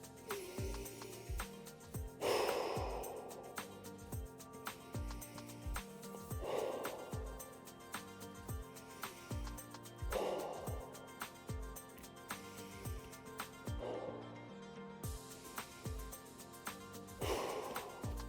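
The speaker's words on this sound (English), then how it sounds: "we're gonna get 4 to 5 good deep breaths" Slow, deep breaths during a resistance-band upper-body stretch, each long exhale rising every few seconds over steady rhythmic background music. No one speaks.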